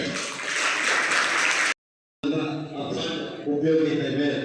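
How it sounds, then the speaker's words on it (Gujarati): Applause from a community gathering audience at a Koli Samaj get-together in Vavera, a dense clatter lasting over a second and a half, then a brief silence before people talk and murmur over fading claps. "એવા ભરતભાઈ શિયાળને આપણે તાળીઓથી ગડગડાવી"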